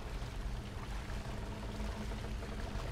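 Flowing water churning around a turning water wheel in a fantasy game world, a steady close rushing and pouring wash with no breaks and no voices.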